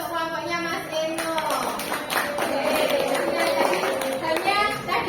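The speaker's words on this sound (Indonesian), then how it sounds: "Tepuk tangan untuk kelompoknya Mas Eno." A group of students in a classroom claps in steady applause for several seconds, the clapping blending with overlapping voices and chatter.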